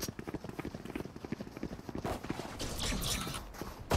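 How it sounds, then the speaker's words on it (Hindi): Quick, rhythmic footsteps from a Valorant or CS2 match patter steadily across the whole stretch, close and fairly loud, with game noise building toward the end. "कौन है भाई इतना फुटस्टेप"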